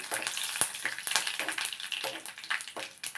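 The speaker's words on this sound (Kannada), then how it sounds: "ಹಾಗೆ ಕರಿಬೇವು ಇವನ್ನೆಲ್ಲ ಹಾಕಿ ಚೆನ್ನಾಗಿ ಫ್ರೈ ಮಾಡ್ಕೊಳ್ಳೋಣ." Green chilies and curry leaves frying in a pan for masala poha, a loud close crackling sizzle broken by repeated scraping stir strokes, with no talking.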